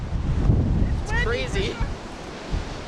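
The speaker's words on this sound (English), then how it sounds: "we wanted to see how windy it actually was." Strong wind buffets and roars around the Vista House lookout railing, a steady rushing gust close on the microphone, while people talk and exclaim over it.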